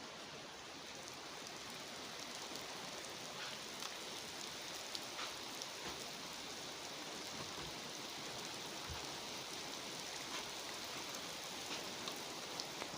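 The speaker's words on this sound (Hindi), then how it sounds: "बारिश बहुत तेज थी ना यार" Steady rain hisses continuously at a fairly quiet level, with occasional drips and no voices.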